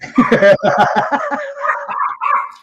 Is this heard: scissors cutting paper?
no